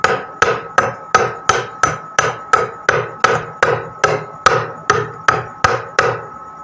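A hammer chips carbon slag off a fresh weld bead, about fifteen sharp metallic strikes in a steady, evenly spaced rhythm, close and loud with no talking.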